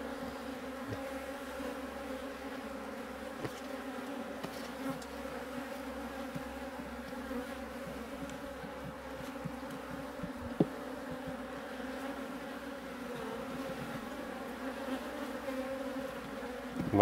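Honeybees swarming over an opened hive during an inspection, a steady, close, layered buzzing hum that carries on evenly throughout, with occasional faint clicks and no speech.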